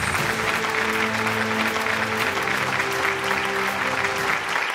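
Strong, continuous applause fills a hall at a business award ceremony as an innovation award is presented, with steady dense clapping and sustained musical tones underneath.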